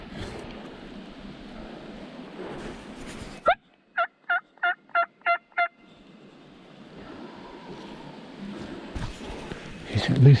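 A wild turkey gobbles in a burst of six or seven sharp rapid notes from a distance, out in the Alabama woods, set between stretches of quiet outdoor ambience with a voice murmuring before and after.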